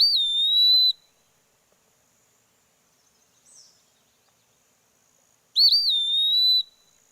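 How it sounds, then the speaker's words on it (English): Two clear, high whistled pewee calls ring out about five seconds apart in an otherwise quiet spring setting in Missouri, each a sustained sliding note, with a faint brief sound between them. "And then there's just the pee-wee and it's like pretty cute"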